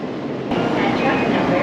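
A Nozomi Shinkansen bullet train pulls into a Tokyo station platform, a steady loud rush of rolling rail noise and air that swells abruptly after a brief quieter moment and holds close and strong, with faint voices beneath.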